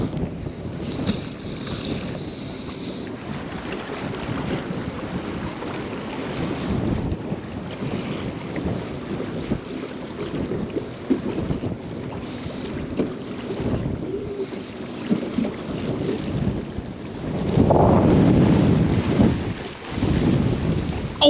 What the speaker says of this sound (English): I can't even control this with the trolling motor. There's way too many waves.